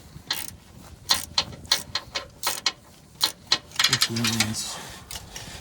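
A hand ratchet with a wobble socket turns a bolt on a 2011 Land Rover LR4 5.0L during crankshaft sensor work, giving close, rapid clicking bursts in short runs, with a brief voice near the end.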